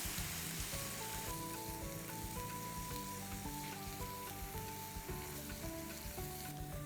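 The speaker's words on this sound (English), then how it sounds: "So saute this really well." Raw ginger, garlic and spices sauté in a pan for egg pomfret, giving a dense, continuous sizzle and crackle with no voices over it.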